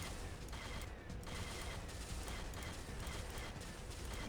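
Pulse rifle fire in Unreal Tournament 99, a steady stream of rapid, buzzing energy shots with a dense mechanical texture, held at an even level with one brief dip.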